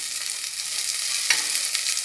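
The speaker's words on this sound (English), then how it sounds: "the first thing goes in is onion. Saute it on sim, that is low flame" Onion sautéing on a low flame, a soft continuous sizzle with one faint stir partway through, close and even.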